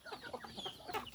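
Native chickens cluck in quick, close bursts at feeding time in a mountain yard, a short soft flurry of several birds with no talk.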